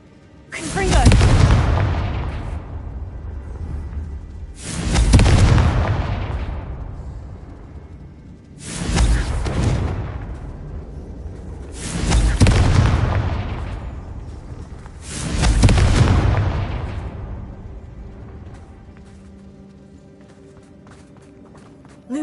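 Confringo spell blasts in Hogwarts Legacy, five loud booming explosions at roughly even intervals, each a sharp burst that rumbles and fades before the next.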